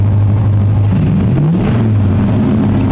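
A Chevy S-10 with a swapped-in V8 idles after a carburetor change, a loud, steady low rumble with a slight wavering dip in pitch midway, engine noise alone throughout.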